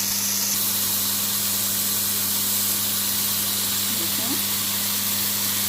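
Chicken tikka frying in a pan gives off a steady, loud, unbroken sizzling hiss over a low hum, with a voice speaking over it.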